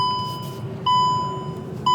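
Two identical electronic chimes from a 2025 VW Golf R, each a short steady tone sounding once about a second apart inside the quiet cabin, over a low hum.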